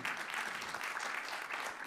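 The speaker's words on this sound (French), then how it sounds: "On applaudit Damien." Audience applause for Damien at a French leadership conference, a steady, dense wash of clapping filling the whole moment at moderate volume, with no voices over it.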